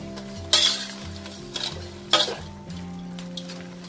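Salt-baked shrimp are flipped in a home frying pan. Two loud scraping clatters of a utensil against the pan cut through a soft, steady sizzle in the background.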